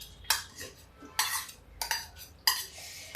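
Pieces of bottle gourd go into a bowl of buttermilk in a home kitchen, with a few spaced, sharp clinks and scrapes of a metal spoon against the vessel, close and clear with no talking.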